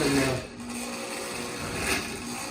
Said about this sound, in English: throw this in our blender